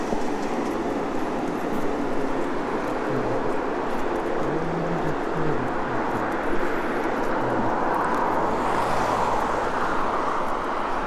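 Airplane cabin on final approach during a short domestic flight in Canada, a loud constant broadband engine and air roar with faint low hums, steady throughout without talk.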